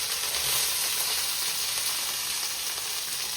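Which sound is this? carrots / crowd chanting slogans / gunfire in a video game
carrots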